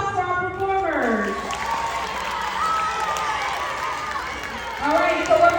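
An audience at a school performance of Cambodian dance claps and cheers in a sustained round of applause over a speaking voice.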